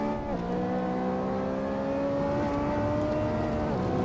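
McLaren race car engine in Assetto Corsa career mode, a steady high engine whine holding near-constant revs with gentle rises and brief dips at gear changes, alone without talk.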